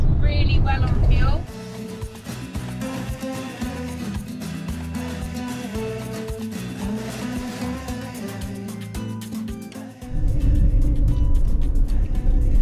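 Van with a 2.3 litre engine driving on a road in Mexico, a steady interior engine hum and road rumble under background music, with people talking loudly at the start and end.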